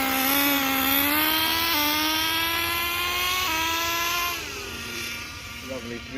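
The nitro engine of a three-speed Kyosho USA-1 RC truck revs loudly and climbs in pitch, dropping twice as it shifts gears, then fades slightly as the truck pulls away.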